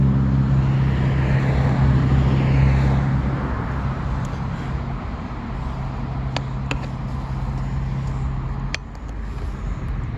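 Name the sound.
road traffic passing near a cemetery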